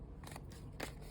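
Paper is snipped with scissors while building a dollhouse room inside an explosion box, giving a few short, close crisp cuts in quick succession against a quiet background.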